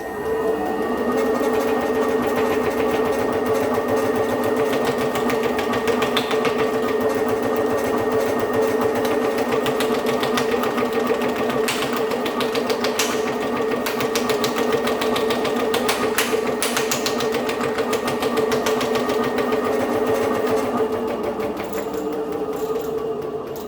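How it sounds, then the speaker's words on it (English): A shrinking machine works a 2024-0 aluminum sheet, giving a loud continuous mechanical buzz and rapid chatter with a steady hum, sustained for over twenty seconds with brief clanks on top. "we're going to shrink it in this machine"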